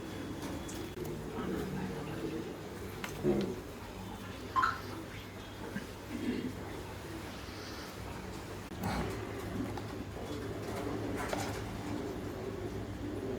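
Racing stock pigeons, loft birds kept by a Coimbatore fancier, coo in soft low bursts, a few distinct calls rising over a steady murmuring hum of the loft, with faint background voices.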